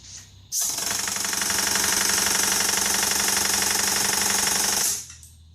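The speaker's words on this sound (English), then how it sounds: "we're going to use a pneumatic paint shaker, which shakes and mixes the paint" A pneumatic paint shaker mixing a can of paint kicks in abruptly with a loud, steady mechanical rattle, running continuously for about four seconds with a rapid shaking rhythm, then cuts off.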